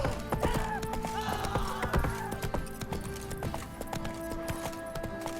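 Hooves of Geralt's horse Roach in The Witcher 3: Wild Hunt clop in a quick, irregular beat, set against game music and ambient tones, with a faint voice in the background.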